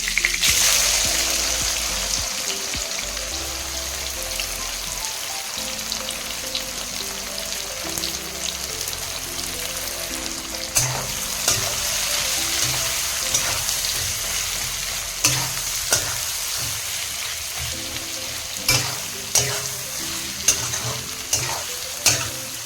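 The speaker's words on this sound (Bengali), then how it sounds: "এবার এই তেলে আমি খাড়া মশলা দিয়ে দিচ্ছি, দিয়ে এতেই চিকেন রান্না করে নেব আমি।" Whole spices and onions frying in oil in a pan for chicken biryani, a steady close sizzle with occasional stirring scrapes and sharper pops throughout, no voices.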